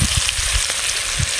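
Mashed potato mixture fries in hot oil, giving a steady loud sizzle with crackling spatters and faint low stirring thumps, no voices.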